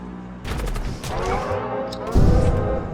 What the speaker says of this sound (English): Full cannon to shield, and I can run my hull ripper.